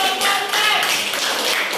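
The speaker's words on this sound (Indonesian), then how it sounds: "Ya, tepuk tangan untuk kelompok" A classroom group claps for a presentation by group 4, giving brief, dense, close-up applause of quick, irregular hand taps.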